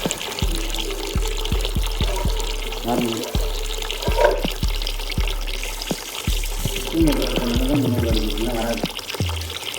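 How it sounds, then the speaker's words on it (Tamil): Water runs from a kitchen tap into a sink, a steady splashing stream with irregular knocks and clunks, while people talk over it. "இப்போ செக் பண்ணி பார்த்தோம், தண்ணி சூப்பராக வந்தது."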